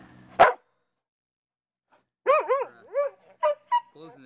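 A dog playing with a new glow-in-the-dark ball lets out a sharp bark, then after a pause a burst of yips and whimpering barks, close and loud against a quiet background.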